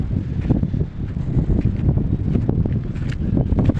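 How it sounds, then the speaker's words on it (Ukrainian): Gusty wind buffets a microphone up close in a farm field, producing a continuous low rumbling roar with irregular puffs and no speech. "Вибачайте, буде трохи вітер задувати."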